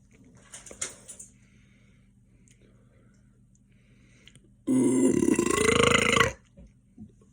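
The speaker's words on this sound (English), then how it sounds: "Why do I keep burping?" Loud, drawn-out burp after chugging cans of Diet Pepsi Zero, erupting for about a second and a half after a quiet stretch with faint clicks and small mouth sounds.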